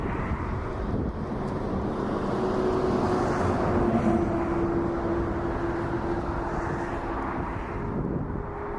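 An airliner taking off from runway 05 at Toronto Pearson airport, a steady broadband engine roar holding loud throughout with a faint droning tone, heard from a distance with wind noise.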